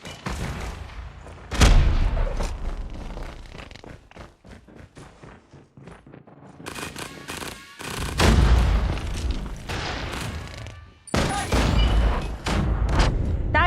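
Grenade blasts and bursts of gunfire from a Call of Duty Hardpoint match, several booming hits and crackling volleys in loud clusters with quieter gaps, a voice briefly under the action.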